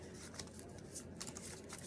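Oracle cards are shuffled by hand in a quick, loose riffle, a soft continuous run of papery flicks and slides, faint and close with no talking.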